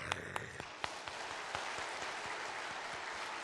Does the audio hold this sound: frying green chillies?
no